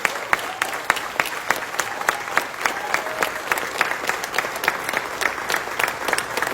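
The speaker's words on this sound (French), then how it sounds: "je peux vous demander une autre main d'applaudissement pour vous, les membres qui êtes là aujourd'hui pour soutenir le mouvement" Applause from the members gathered at a press conference launching the "Le choix impossible" movement, with steady, dense clapping and sharp individual claps standing out throughout.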